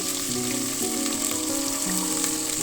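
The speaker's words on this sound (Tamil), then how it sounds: "பச்சை மிளகாய் காஞ்ச மிளகாய் கருவேப்பிலை இது மூணும் சேர்த்து நல்லா வதக்கிக்கோங்க" Green chillies, dried red chillies and curry leaves crackle in hot oil in a pan for sambar, with shallots nearby, making a close, steady, bright sizzle with small popping bursts and no speech.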